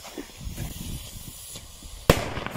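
A firework is set off, with hissing and faint crackles and then one sharp, loud bang near the end, all alone without voices.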